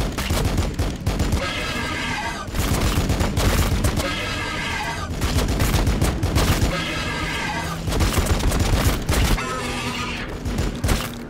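Dense gunfire bursts from the video game Warhammer 40k Battlesector, loud crackling volleys coming in waves of about two seconds with brief lulls between, mixed with game effects and no speech.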